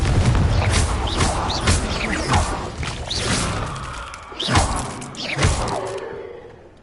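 Confringo blasting-spell impacts in Hogwarts Legacy land as several thuds and whooshing bursts, with two sharper hits near the end before the sound fades away.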